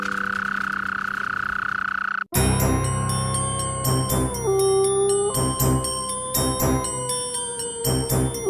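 A cartoon toad croaks in a children's folktale scene, a tonal croak giving way to a bright chiming musical passage with steady repeated notes, loud and close with no talking.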